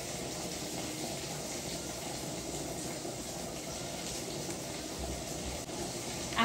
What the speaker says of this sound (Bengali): তবুও গরম জল দিয়ে ভালো করে ধুয়ে নিই